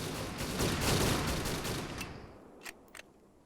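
Sustained automatic gunfire from a video game, magazines emptied in long continuous bursts that are loud and dense at first, then a couple of isolated distant shots.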